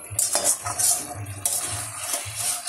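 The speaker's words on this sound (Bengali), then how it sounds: "এবার চিকেনটাকে কষাচ্ছি।" Chicken for biryani is stirred and sautéed in a pan, with a spoon scraping and clinking against the metal in rhythmic strokes over a faint frying sizzle.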